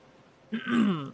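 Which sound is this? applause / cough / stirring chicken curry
cough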